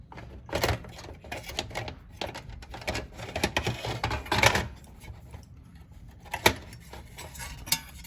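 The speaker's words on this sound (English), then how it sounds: "there is 4 screws right here that you need to take off from the side" Small metallic clicks and taps from screws being removed from the side of an Xbox 360 console, irregular bursts of close handling noise with brief louder ticks, no talking.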